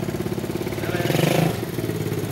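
Motorcycle engine revving up on a street, a steady mid-pitched drone that swells louder around the middle and then settles, heard fairly close and alone.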